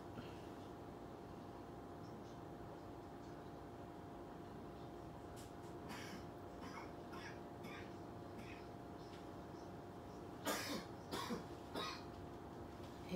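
Someone coughs a few times in a quiet room, the coughs about ten seconds in, faint to moderate and set against a low steady hum, with no talk.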